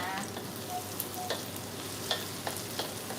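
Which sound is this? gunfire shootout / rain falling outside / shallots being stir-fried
shallots being stir-fried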